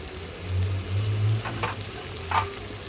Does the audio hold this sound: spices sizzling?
yes